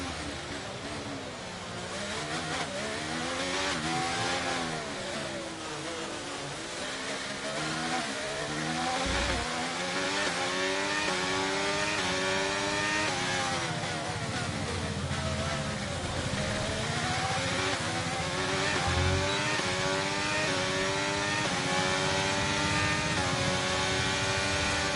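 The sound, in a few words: F1 race car accelerating in video game F1 2023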